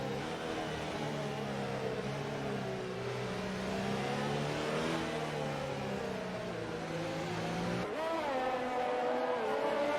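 F1 race cars in the video game F1 2019 at the Chinese GP, high-pitched engines droning steadily with rising and falling whine as they pass, heard at moderate distance.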